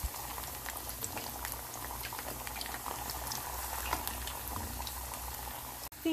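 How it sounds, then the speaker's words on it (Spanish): Green plantain slices fry in hot oil over medium heat, giving a steady, fine crackling sizzle that runs continuously at low level with no voices. "Los dejo dorar suave por ambos lados"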